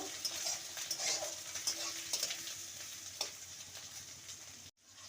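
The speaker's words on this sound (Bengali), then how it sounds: "মিডিয়াম সাইজের টমেটো কুচি ভালো করে কষিয়ে নেব" Chopped medium-size tomatoes frying in a pan for a potato and pointed gourd curry, with a steady close sizzle and scraping stirring strokes, briefly cutting out near the end.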